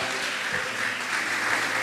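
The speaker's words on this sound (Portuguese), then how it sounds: "Aplauda ao Senhor!" A church congregation claps together during a worship service, a dense, steady wash of applause that keeps up for the whole moment with no clear pauses.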